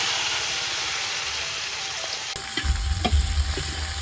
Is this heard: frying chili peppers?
yes